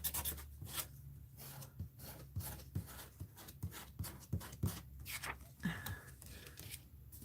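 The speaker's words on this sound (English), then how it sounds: "So I'm scraping it off and putting it back over on this side." Paint being scraped off a canvas, repeated soft rasping strokes in an irregular rhythm, close and quiet over a low steady hum, with no talk.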